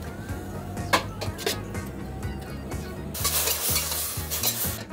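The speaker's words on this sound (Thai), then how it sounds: "จากนั้นรวนไปเรื่อยๆจนกว่าหมูสับจะสุกดี" Minced pork stir-frying with a splash of water, soy sauce and ground pepper in a pan, a close sizzle under repeated scraping and knocking of a spatula, growing louder and busier in the second half.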